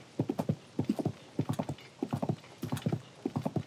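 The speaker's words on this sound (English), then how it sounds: "Go, horse." A horse in Tears of the Kingdom trots along a road with crisp, rhythmic clip-clopping hoofbeats in quick clusters, close and clear against a quiet background.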